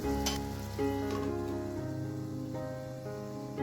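Potatoes frying in a pan over a medium flame with a half teaspoon of salt, a soft steady sizzle and crackle under faint tonal background, fairly quiet and close.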